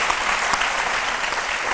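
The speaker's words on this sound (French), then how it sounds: "Aka Kwadio Fernand Annick, on applaudit très fort." A studio audience on a midday TV show claps loudly and continuously, a dense, even burst of applause heard up close.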